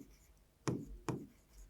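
A pen or chalk writes on a board during a physics lesson, making two short, faint scratching strokes a fraction of a second apart in an otherwise quiet room.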